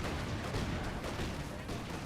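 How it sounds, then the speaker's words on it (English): Grenades burst in a Company of Heroes 2 battle as a dense, rumbling wash of explosions and gunfire, fairly quiet and continuous, with a commentator talking over it. "the nades will get this one though"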